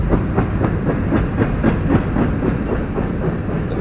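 A BNSF coal train of loaded cars bound for a power plant rolls by close and loud, its wheels beating a fast, regular clickety-clack over rail joints with a heavy steady rumble and no voices.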